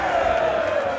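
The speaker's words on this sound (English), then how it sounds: "I think they're chanting for Dennis, right?" A large crowd chants a player's name at a Super Smash Bros. tournament grand final, a loud sustained rhythmic roar filling the hall.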